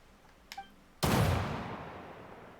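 A gunshot fired in the Genshin Impact video game, one sharp loud crack followed by a long, fading rumbling echo, preceded by a short faint tonal blip, with no talk.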